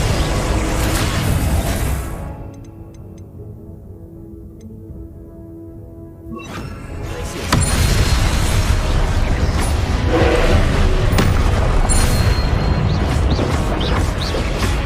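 Confringo and Incendio fire spells in the game Hogwarts Legacy burst and roar loudly in dense, booming blasts, with a quieter lull in the middle before the crackling explosions pick up again and keep going.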